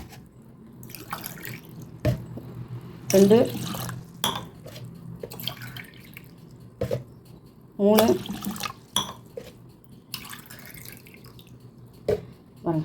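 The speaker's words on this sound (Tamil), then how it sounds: "நாலு டம்ளர் தண்ணி ஊற்ற போகிறேன்" Tumblers of water are poured into a cooking pot for tomato rice, two distinct splashing pours with rising fill tone, separated by quiet kitchen sounds and a voice counting.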